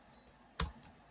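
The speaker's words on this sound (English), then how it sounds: "all I have to do is just start typing it in" A few isolated keystrokes on a computer keyboard, quiet and sparse, with one sharper, louder click in the middle and no talk.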